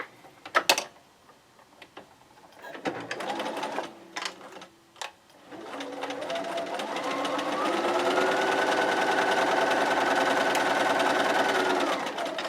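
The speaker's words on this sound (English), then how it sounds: "I'm just going to place it here on my sewing machine." A sewing machine stitching a quarter-inch seam while piecing a bricks quilt: a few handling clicks and short bursts, then a steady continuous whirring run of stitching for several seconds.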